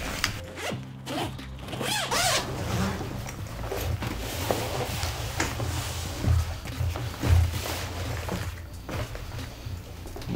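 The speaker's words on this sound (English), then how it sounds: "Nice heavy duty zipper." A heavy-duty lockable zipper on a Simms Bounty Hunter Vault fly-fishing bag is pulled open and closed in several rasping runs, close and fairly loud, with handling rustle.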